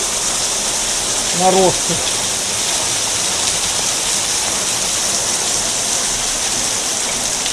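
Water pours down like a shower inside a cave near Gelendzhik, a steady broadband splashing roar filling the whole clip, with a brief voice speaking near the start.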